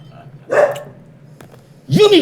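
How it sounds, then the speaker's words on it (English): A little dog gives a couple of sharp yipping barks close by, one early and one rising bark near the end, while a person talks in the background. "That's the little dog."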